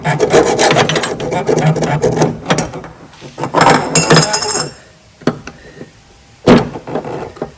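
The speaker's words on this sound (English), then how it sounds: "My weld went a little too high here, so I'll get a hacksaw it off here" Hacksaw cutting off excess weld on a mower deck idler pulley stud of a John Deere deck, loud rasping back-and-forth strokes in uneven bursts, then a few sharp metallic clinks and pauses.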